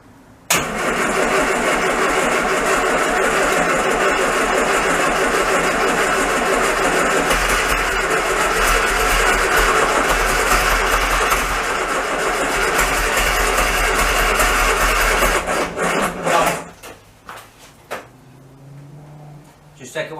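A classic Mini van engine being restored cranks and catches, then runs loud and steady at a rough idle for about fifteen seconds before it is cut off, and a few brief sounds follow.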